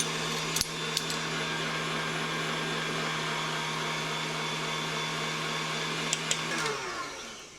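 An electric mixer whirring steadily while beating egg whites with vanilla, a constant motor drone with a few clicks against the bowl before it winds down at the end.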